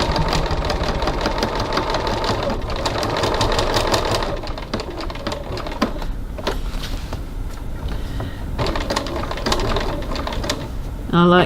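Sewing machine stitching a zipper pocket window on a bag, with rapid, steady needle chatter in loud bursts that pause and restart briefly.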